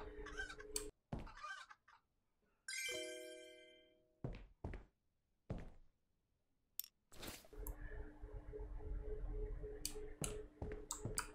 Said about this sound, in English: Fucking chicken.